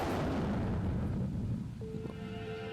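Explosion in the video game Monster Girl Quest: a loud, deep rumbling blast that fades over about a second and a half, followed by faint ringing tones.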